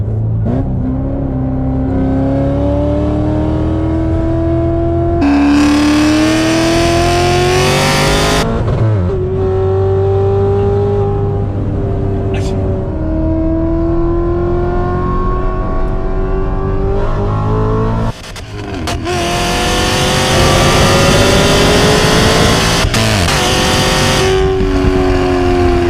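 A C7 Corvette Z06 accelerates hard on a race track, its engine roaring loud and close with rising pitch sweeps through successive gear changes, a brief dip near the end before it pulls hard again.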